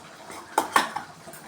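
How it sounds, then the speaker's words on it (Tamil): Rice being served into a clay pot: two or three short utensil clinks and scrapes against the pot, close and fairly quiet, with no talking. "இந்த சட்டிலே நான் சோறு போடுறேன்."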